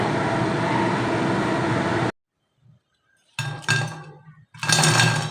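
Freshly fried, crispy pakoras are handled and clinked in a dish: bursts of crunchy rattling and clinking in short clusters, broken by a gap of near silence.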